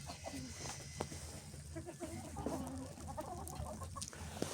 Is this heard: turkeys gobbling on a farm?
yes